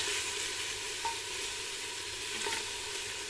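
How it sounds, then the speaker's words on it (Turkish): Seared cubed meat being sautéed in cooking oil in a pan, a soft continuous sizzle with occasional stirring scrapes, fairly quiet and with no talking. "yemek kaşığı yemeklik yağımızı koyarak kavuralım"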